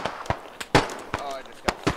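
Several sharp grenade blasts from a Squad match set in Fallujah, loud and close, bursting one after another at uneven intervals, with players talking over them.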